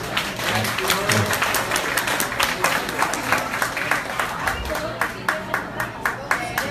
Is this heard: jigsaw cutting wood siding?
no